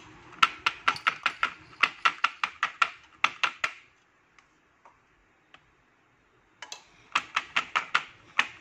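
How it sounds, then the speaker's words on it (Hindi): Chocolate mold filled with poured chocolate for a nut chocolate bar, tapped repeatedly on a hard surface: two quick bursts of sharp, even knocks, a quiet gap with a few faint clicks, then another run of taps. "इसे सेट करूंगी टैप करके।"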